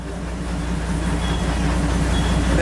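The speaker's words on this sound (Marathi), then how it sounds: "अशा पद्धतीने ही टॉय ट्रेन आहे" Darjeeling toy train rumbling steadily close by, a continuous low mechanical drone with a faint repeating clatter from the carriages, loud and unbroken, no voices over it.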